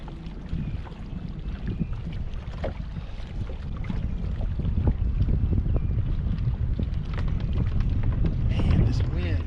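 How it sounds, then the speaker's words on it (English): Steady wind roars and buffets across open water on Lake Lanier while bass fishing from a boat in spring, a constant low rumble with gusty swells that grow stronger toward the end. "Man, this wind, never-ending wind."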